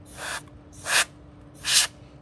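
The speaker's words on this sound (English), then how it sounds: "with this spray is don't shake the can" An aerosol can sprays alcohol ink onto a wooden plank in three short hissing bursts, each about a third of a second long and separated by quiet pauses, heard close up with no talking.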